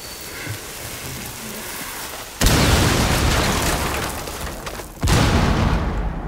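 Two heavy grenade blasts in Rainbow Six Siege at Hereford Base, each a sudden loud boom followed by a rumbling, crackling tail of debris that slowly fades, the second arriving a few seconds after the first.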